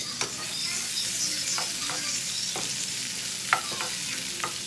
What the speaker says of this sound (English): now we're just going to fry up this okra real quick and kind of let it get like a little brown